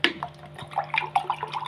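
Water splashes and trickles from a glass into a cooking pot, about one and a half glassfuls, with a steady low hum beneath the light liquid sounds.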